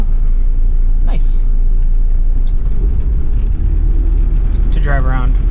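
A 1991 Toyota Land Cruiser PZJ70 diesel 4x4 drives on surface streets, its low engine rumble and road noise steady and close from inside the cabin, with someone talking over it.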